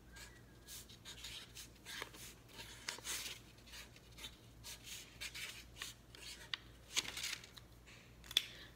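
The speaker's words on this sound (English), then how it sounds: "So I'm just gonna draw a quick design on mine." A marker scratches and squeaks across a paper kite as a design is drawn, faint close-up strokes in short irregular bursts with pauses between.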